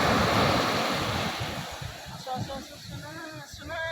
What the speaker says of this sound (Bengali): দেখ কত বড় একটা ঢেউ আসছে